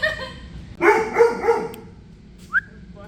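A dog barks in a few sharp bursts close by, followed by a brief high whistle-like yelp, with no talking over it.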